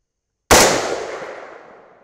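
A single .308 Winchester rifle shot firing a Sierra GameChanger 165-grain bullet, a sharp loud crack after a moment of silence, trailing off in a long fading echo.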